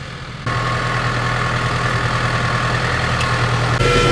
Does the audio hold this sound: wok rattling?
no